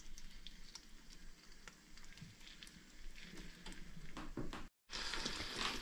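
Potato pancake batter, spooned into hot oil as bramborák, fries with a steady broadband sizzle and crackle that runs throughout, with brief louder spits and a short dropout near the end.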